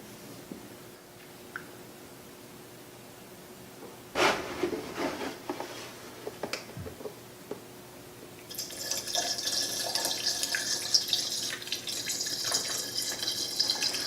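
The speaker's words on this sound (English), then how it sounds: "now we're going to start to fill the machine with distilled water until we hit the high water mark on the front of the machine." Distilled water poured into a BG machine, quiet clunks and handling noises at first, then a steady splashing, trickling flow that continues to the end.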